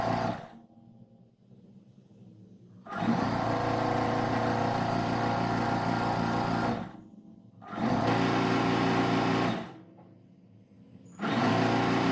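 An electric sewing machine stitches saree cloth in three bursts of steady, close-up whirring and clattering, separated by short pauses where only a faint motor hum remains.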